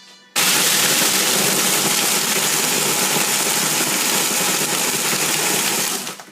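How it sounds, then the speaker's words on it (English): A Mr. Twisty frozen margarita machine blends with a loud, steady motor whine and churning roar that starts abruptly and runs without a break for about six seconds before easing off, with nobody talking. "so you're going to blend it till it gets, just for like a minute or so until you think it's the right texture"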